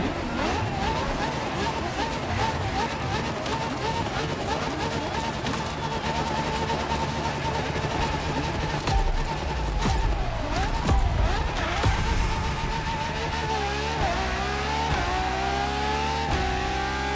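LaFerrari hybrid supercar from Maranello in The Crew Motorfest, engine revving and climbing through sweeping pitch changes, loud and close, with someone talking over it.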